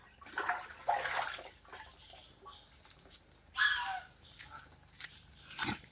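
Water splashes and gurgles into native pigs' drinking troughs on a farm, arriving in several short bursts over a quiet background.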